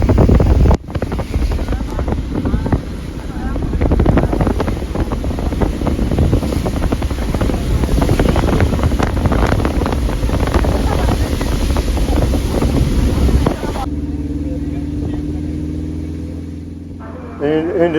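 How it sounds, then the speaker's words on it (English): Auto rickshaw cab ride through a coastal town in Palghar, with a steady, loud engine and road rumble and heavy wind buffeting the microphone for most of the ride, then quieter idling near the end. "I'm gonna take a tuk-tuk or rickshaw from here. I'm in the cab now."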